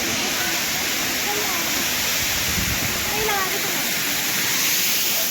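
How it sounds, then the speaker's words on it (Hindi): A waterfall roars as a steady, loud wash of splashing water, with spray carrying close by at a lake and maze site in Chandigarh, Punjab; the rush continues without a break. "इस झरने का छीटा यहाँ तक आ रहा है दोस्तों।"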